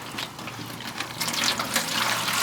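Water gushes and splashes from a shot water test container after a rifle bullet strikes it, a noisy steady spray that swells midway.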